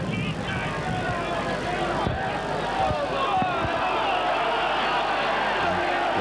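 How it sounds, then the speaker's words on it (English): A large rugby league crowd at a 1990 Bradford versus Leeds match roars and jeers at a player, a steady dense wash of voices from a packed stadium with a few brief thumps, under continuous commentary. "Schofield incurring the wrath of the crowd."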